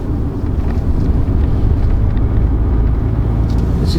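A 2020 SsangYong Musso Rhino pickup's engine holds high revs while driving, a loud, continuous droning roar with road and wind rush blended in, steady from start to finish.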